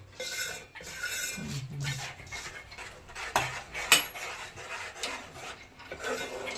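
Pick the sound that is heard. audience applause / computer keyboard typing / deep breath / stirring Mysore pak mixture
stirring Mysore pak mixture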